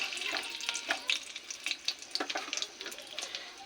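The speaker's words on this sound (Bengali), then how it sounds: "এই তেলে ফোড়ন দেব গোটা গরম মশলা" Whole garam masala spitting and crackling in hot oil while tempering for chicken kosha, a steady close sizzle peppered with sharp little pops, with no voices.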